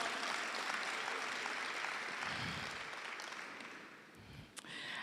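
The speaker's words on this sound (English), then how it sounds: "let's give each other a round of applause." Graduation audience at a school of leadership ceremony giving a round of applause, moderately distant clapping that fades gradually, with a few brief thumps and bumps near the end.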